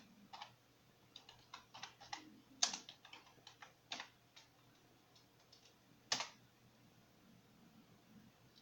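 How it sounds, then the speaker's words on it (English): Faint, sparse keystrokes on a computer keyboard in a quiet room, irregular single taps with two sharper, louder clicks standing out. "So we are typing in detail disk."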